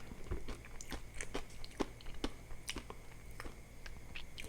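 Crisp raw vegetables crunched and chewed close to the mic in steady, repeated bites, a dry crackling rhythm with no talk.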